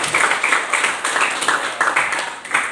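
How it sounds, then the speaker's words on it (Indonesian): A classroom group claps for presenters after a reflection session, a lively close burst of hand claps with rhythmic surges and dips, filling the whole moment without talk. "Tepuk tangannya."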